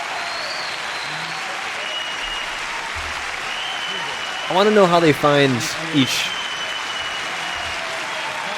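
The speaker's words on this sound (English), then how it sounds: "he had a big crowd cheer too" Presidential debate crowd applause from 1988 forms a steady bed of clapping, while someone talks over it in the middle and briefly again near the end.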